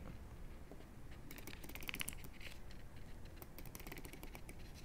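Rapid bursts of small, crisp clicks from a ratcheting dive watch bezel being turned, close and quiet against a low background hiss.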